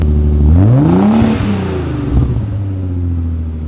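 A Nissan 300ZX Z32 Fairlady Z with a swapped RB26 inline-six revs up close and loud, climbing sharply in pitch, then falling back and settling to a rumbling idle with a smaller blip.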